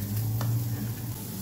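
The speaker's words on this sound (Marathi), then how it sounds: "कांदा छान लालसर होईपर्यंत भाजून घेऊया।" Vertically sliced onion sizzles in a little oil on a hot griddle over a gas flame, a steady close crackle with a low hum underneath and no talking.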